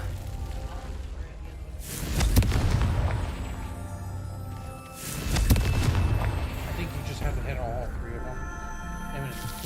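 Confringo explosion spells go off in the Hogwarts Legacy video game as two heavy booms a few seconds apart, each swelling and decaying, with game sounds and light talk in between.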